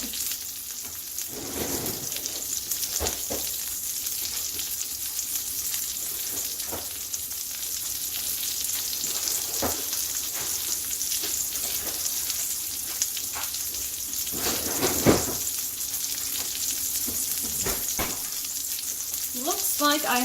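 Steady sizzling of a burger frying in a pan, a constant crackling hiss with occasional louder pops and stirring scrapes, no talking.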